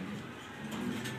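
A big female pigeon gives a faint, brief low coo that is barely above quiet background noise.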